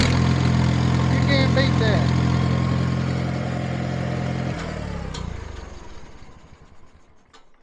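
An International 424 tractor engine runs loud and close at a steady idle with a strong low drone, then shuts down and sputters to a stop, with a brief spoken comment.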